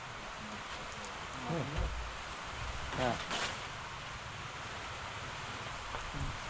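Steady rain hisses across the whole stretch, with soft voices briefly talking underneath.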